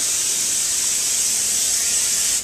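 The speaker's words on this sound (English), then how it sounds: "I'm going to spray it with cooking spray." A single continuous spray of cooking spray hisses steadily from an aerosol can onto a nonstick baking sheet for about two seconds, close and loud, then cuts off.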